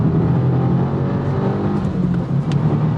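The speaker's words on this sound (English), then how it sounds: "The engine sounds like it wants to go beyond 6K" A 2024 Subaru WRX TR on a racetrack, its engine revving hard at high rpm as a continuous loud, close drone with steady harmonic whine, alone with no talk.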